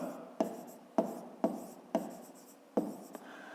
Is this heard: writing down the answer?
yes